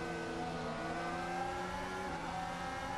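Steady high-pitched Formula 1 engine whine during an overtake in Assetto Corsa on the Spanish Grand Prix circuit, a continuous loud drone with layered harmonics and no talking.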